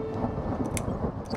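A rumble of storm thunder in the video game The Cat Lady, with a low continuous roll and rain hiss throughout.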